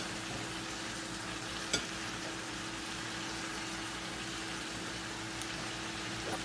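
Chicken sausage stir fry with garlic and vegetable ribbons sizzling steadily in a hot pan, a constant close frying hiss with a brief clink of a utensil partway through and no talk.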